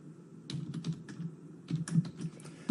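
Typing on a computer keyboard, two quick bursts of light, clicky keystrokes in an uneven rhythm, close and fairly quiet with a short pause between them.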